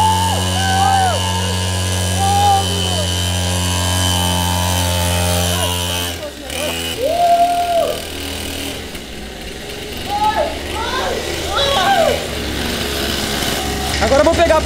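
A small mini motorcycle engine idles with a steady buzzing drone, then cuts out as people talk and shout nearby over background noise.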